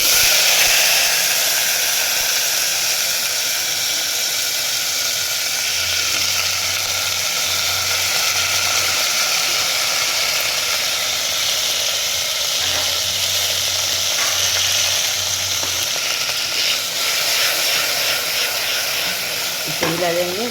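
Asafoetida and drumsticks sizzle in a pressure cooker on a gas stove, a steady loud hiss of frying running continuously with occasional scraping stirs and a faint low hum.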